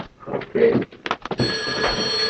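A telephone rings in a room with bright, repeated electronic trills. Someone speaks briefly alongside the ringing.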